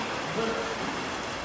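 Hail pelts down steadily outdoors on a farm, a dense even roar throughout the short stretch, with faint voices mixed in.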